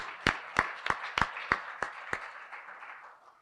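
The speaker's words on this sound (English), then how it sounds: "I need to hear some cheering." A small crowd at a civic morning event on Highway 69 improvements claps seven or so distinct times in a slow, regular rhythm, then the sound fades into a soft murmur.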